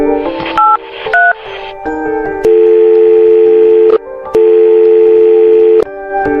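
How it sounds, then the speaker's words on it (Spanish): Telephone dialing tones ring out loud and clear: a quick run of short keypad beeps followed by longer sustained dial-style tones separated by brief gaps. "lo único que se me ocurrió fue volver a mi coche y llamar al señor Kovacs."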